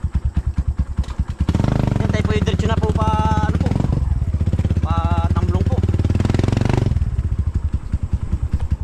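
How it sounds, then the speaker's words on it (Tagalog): A motorcycle engine roars loudly past at close range on a rural road near rice fields, its rising and falling growl lasting several seconds, with someone talking before and over it. "May motor oh."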